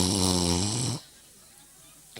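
A comedian's voice imitates an old man snoring, a loud, rough, drawn-out buzzing snore that cuts off abruptly into near silence, with a faint breath or sound returning at the end.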